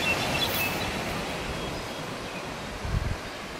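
Steady broadband rushing of a waterfall and the river below a dam, heard from a distance as a constant wash of noise with a brief low thump near the end.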